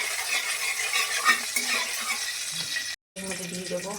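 Black cumin and dried chilies sizzle briefly in hot oil beside already fried potatoes, a dense, loud crackling hiss that cuts out for a moment and then resumes.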